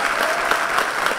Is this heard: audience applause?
yes